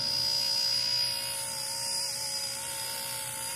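An RC ERA C032 remote-control helicopter flies in the desert, its steady high-pitched rotor and motor whine holding at a constant level throughout with no talk over it.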